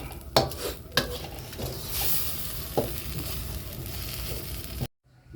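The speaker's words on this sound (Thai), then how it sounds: "ผัดไปเรื่อยๆนะครับ" Minced fermented fish (pla ra) being stir-fried in a pan, with a steady sizzle broken by sharp scraping clanks of a spatula against the metal several times, close and fairly loud, ending abruptly.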